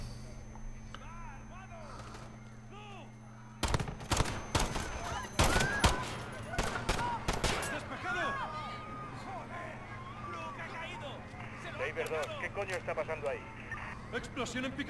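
Bursts of rapid gunfire crackle intermittently over a steady hum, mixed with shouting voices and background clamor, in the video game Call of Duty: Modern Warfare, near an explosion at Piccadilly Circus.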